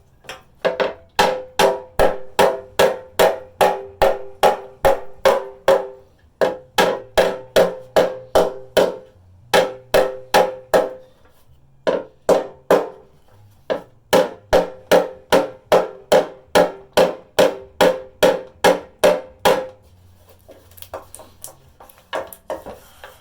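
Hammer blows ring out against the sheet-metal bottom of a motorcycle fuel tank as indents are beaten out, coming in fast steady bursts of metallic strikes with brief pauses between runs, close and loud, no talking.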